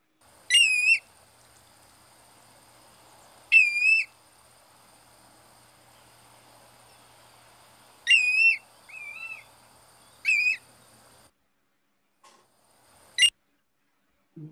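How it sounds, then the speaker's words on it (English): A black-bellied plover gives clear, plaintive, slurred whistles in several separate bursts spaced a few seconds apart, crisp and fairly close against near silence. "This is a black-bellied plover."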